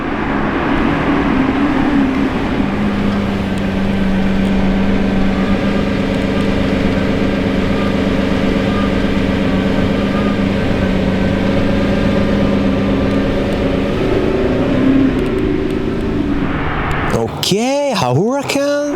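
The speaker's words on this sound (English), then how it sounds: "the white Revuelto is getting back" A Lamborghini Revuelto engine rumbles steadily and loudly nearby, a continuous low drone with no break, while someone talks over it near the end.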